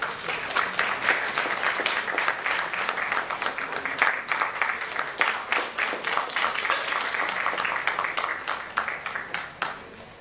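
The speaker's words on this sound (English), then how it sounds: "I request audience to please keep applauding." A hall audience at a World Standards Day event keeps applauding, a sustained, fairly loud round of mixed clapping with some distinct individual claps that runs steadily for about ten seconds before easing off.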